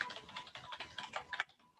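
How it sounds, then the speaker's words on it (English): Rapid typing on a computer keyboard, a quick patter of soft key clicks close by and fairly quiet, ending abruptly after a short burst. "can start typing the SQL statements for execution"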